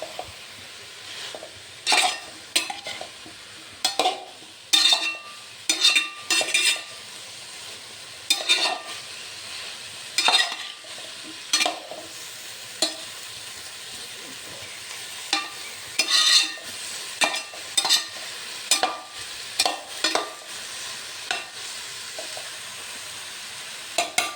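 Half-cooked potatoes with salt and turmeric are stirred into frying cauliflower masala. A spoon clatters and scrapes against the pan in repeated rhythmic strokes over a steady sizzle, close and clear.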